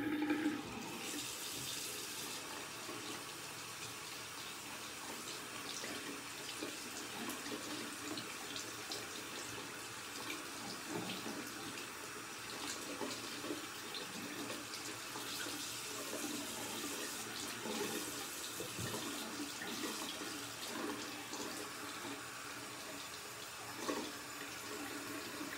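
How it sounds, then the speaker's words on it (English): A bathroom sink tap runs steadily while someone wets their face, a constant close rush of water with soft splashing shifts and no talking. "I just need to wet my face a little bit."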